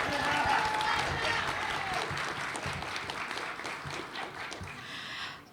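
An awards-ceremony audience at the Mayor's All-Abilities Awards applauds for a Tempe rock band; the clapping is fairly faint and steady, mixed with crowd murmur, thinning out toward the end.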